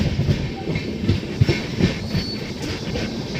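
A passenger train on the Davangere to Bangalore line rolls along the rails with a steady low rumble and irregular clicks and thumps from the wheels over track joints, heard close from inside the carriage with no talk.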